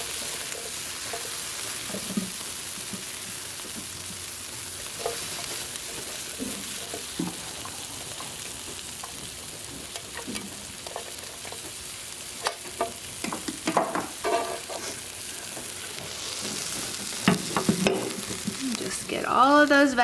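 Potatoes, peppers and onions fry in a pan, a steady soft sizzle broken by repeated scraping stirs that grow busier and louder toward the end.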